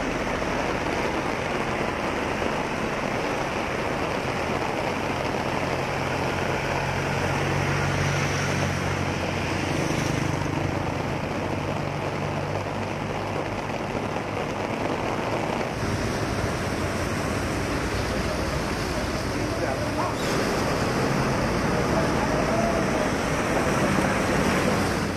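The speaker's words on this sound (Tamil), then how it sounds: "இரட்டை கால்வாயில் இருந்து ஆர்ப்பரித்து செல்லும் தண்ணீர் ரயில்வே இருப்பு பாதையை மூழ்கடித்துள்ளது" Floodwater pouring out of a twin canal after continuous rain rushes over a railway track, a steady loud roar of churning water that holds nearly constant throughout with no voices.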